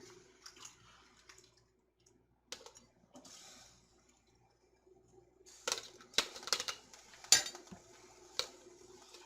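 Banana peppers being packed into a hot glass jar with a spoon, giving scattered soft clinks and scrapes that grow busier and louder toward the end, with no talking.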